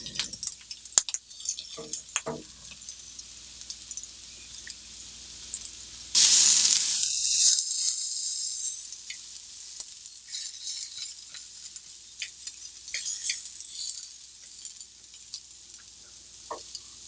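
Onions and chopped jicama cooking in a pan, a soft steady sizzle with scattered stirring clicks, and a louder hissing surge when the jicama drops in before it settles back to a quiet fry.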